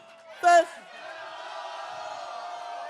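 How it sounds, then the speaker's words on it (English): A brief loud shout is followed by a crowd cheering and whooping steadily, fairly distant and sustained to the end. "That's the cheer."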